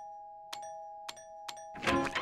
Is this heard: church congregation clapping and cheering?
no